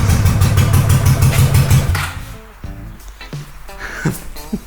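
A Honda GL500 motorcycle engine with old oil in it runs loud and close for about two seconds, then drops to a quieter idle as the clutch is pulled in. A voice speaks briefly over it.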